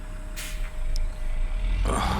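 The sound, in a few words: truck engine starting in American Truck Simulator video game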